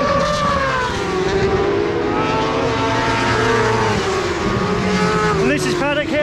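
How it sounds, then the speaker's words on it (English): A racing motorcycle at the Brands Hatch circuit during a British Superbikes GP meeting, its loud, sustained engine roar rising and falling as it passes near, mixed with crowd and circuit noise. "Bloody noisy motorcycle."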